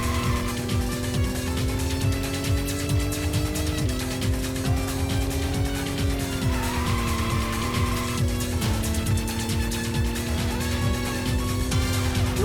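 A game car in Racing Lagoon drones continuously at close range, its engine note rising and dipping as tires squeal through handbrake slides.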